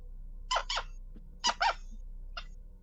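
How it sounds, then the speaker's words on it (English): Sharp, high squeaks come in short bursts: two quick pairs, then a single one, over a faint, quiet room background with no talking. "What is that squeaking?"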